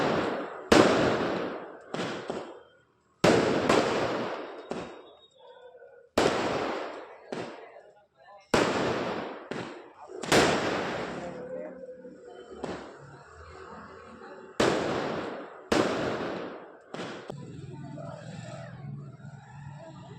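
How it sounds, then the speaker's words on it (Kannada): Firecrackers burst repeatedly at a roadside birthday celebration in the middle of the road, sharp loud bangs arriving in an irregular string every second or two, with echoing tails, crowd chatter and traffic underneath. "ನೋಡಿ ಯಾವ ರೀತಿ ಪಟಾಕಿ ಹೊಡ್ಕೊಂಡು"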